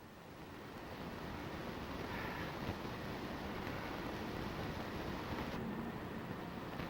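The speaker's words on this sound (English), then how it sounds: "Got about a 20-some mile-an-hour wind gust." Steady rushing wind roars across the microphone for several seconds, a broad, constant blustery noise with no voices.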